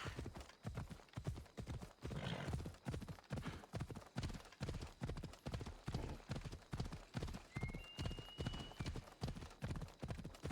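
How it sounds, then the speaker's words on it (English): Steady, rapid clip-clop of a horse galloping in Assassin's Creed Odyssey, hoofbeats pounding in an even rhythm throughout, loud and close, with a brief high whinny-like tone partway through. "Gonna call the horse."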